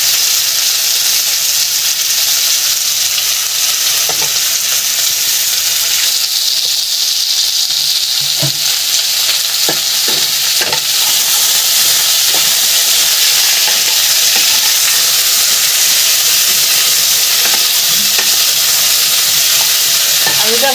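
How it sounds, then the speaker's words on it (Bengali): Potatoes fry in ghee for a Bengali cauliflower and potato curry, giving a loud, continuous close sizzle with scattered soft clicks and scrapes of stirring, and no speech. "আলুটা ভাজা হয়ে গেছে"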